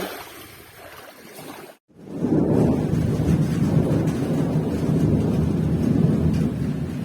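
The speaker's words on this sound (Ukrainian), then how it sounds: "У нас дощ, грім, блискавка." After a brief hush, a deep rumble of thunder rolls in with steady rain noise by the Black Sea, loud and continuous.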